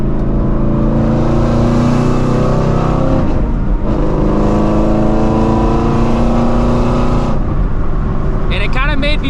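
A straight-piped Shelby GT350 roars loudly and continuously at highway speed, a thick droning exhaust note with a brief dip in the middle and rough crackling edges near the end.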